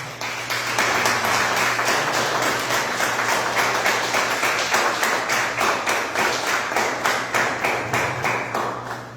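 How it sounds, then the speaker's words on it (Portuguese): A church congregation claps in a steady, rhythmic beat, loud and sustained, over a low continuous hum, with no one talking. "Você pode aplaudir ao Senhor?"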